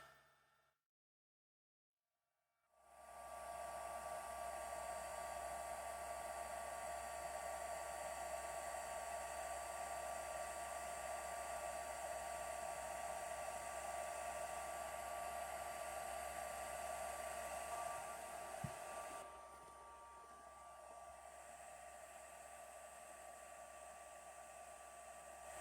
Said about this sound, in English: I'm going to bring in my heat tool